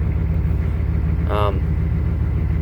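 A Chevy 6.5 turbo diesel with a rebuilt DB2 injection pump idles while warming up on a cold morning, a loud, steady low rumble throughout with a short higher-pitched squeal in the middle.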